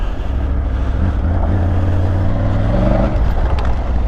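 A 2020 Triumph Tiger 900 Rally Pro ridden in second gear, its engine droning loud and close with a steady low growl that rises slightly in pitch, wind rushing over it.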